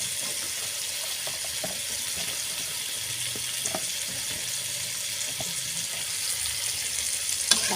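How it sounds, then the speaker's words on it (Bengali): Ridge gourd fries and gets stirred in a pan of spices, giving a steady moderate sizzle with occasional soft utensil scrapes and taps, fairly even throughout. "ভালো করে নাড়াচাড়া করে ঝিঙেগুলো সুন্দর করে কষায় নেব।"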